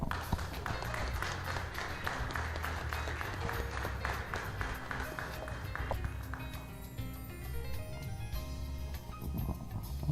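Sustained applause from the audience at a round-table session of an academic week on Brazilian bureaucracy and tax reform, dense clapping throughout that thins slightly toward the end, with a faint voice underneath.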